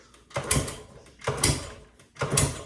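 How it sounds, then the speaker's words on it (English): A 1970 Honda CB100 motorcycle engine turned over with the spark plug removed, giving three rhythmic bursts of mechanical churning at roughly one-second intervals, fairly close and moderately loud, with no talk. "Motor turns over."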